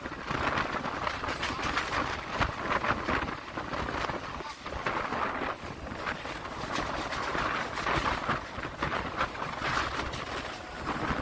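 A Budge Budge–Sealdah local train running on the rails in Kolkata, a heavy continuous rumble and rattle with rhythmic wheel clatter that swells and eases, heard from on board or nearby without talk.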